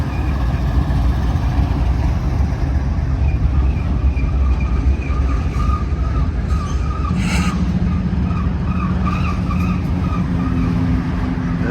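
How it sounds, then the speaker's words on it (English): A long Norfolk Southern freight train with diesel-electric locomotives and a mid-train General Electric distributed power unit rumbles steadily past near Altoona, Pennsylvania, with continuous wheel noise, engine drone and occasional squeals, fairly close. "Here's a mid-train General Electric DPU distributed power unit."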